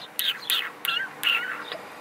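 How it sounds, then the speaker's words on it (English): Birds sing loudly nearby in a short series of about four bright, chirping bursts with brief pauses between them. "Them birds are singing loud."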